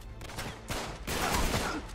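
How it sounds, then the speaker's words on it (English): Gunfire in Uncharted 3: Drake's Deception's London Underground, a few quick bursts of shots in succession, loud and close, with dense echoing reverb between them. "I'm shooting it a little everywhere"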